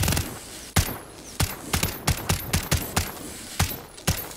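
Custom tracer gunfire from the XRK Stalker in Modern Warfare 3: a rapid string of about a dozen sharp, loud shots in uneven bursts, each with a bright ringing tail.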